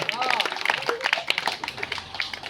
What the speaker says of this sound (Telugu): ఇచ్చేది క్లాప్స్ కొట్టండి అందరూ